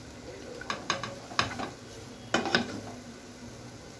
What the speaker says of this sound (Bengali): সব কিছুকে ভালোভাবে এটার সঙ্গে আমি মিশিয়ে নিচ্ছি।